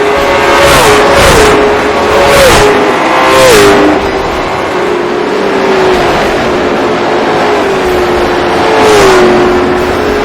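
Race car engines in the iRacing video game, racing in an asphalt series, roar loudly as cars rev up and shift in repeated sweeping passes, then ease into a steadier drone.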